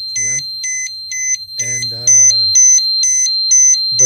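Repeating electronic beeps from an XGuard Plus V3 protection device sounding an alarm condition, steady evenly spaced tones close and loud, with someone speaking over them.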